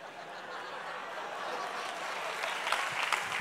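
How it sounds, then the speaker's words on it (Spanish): Audience applause in a comedy studio, a soft, steady patter of clapping that swells slightly toward the end, heard at a moderate distance with no clear talk over it. "Hay muchos que están aplaudiendo"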